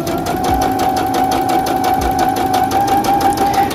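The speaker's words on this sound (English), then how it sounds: "we're sewing along" A sewing machine stitches fabric for a teddy bear ski mask, running steadily and loudly with a fast, even needle rhythm throughout, close up and with no talk.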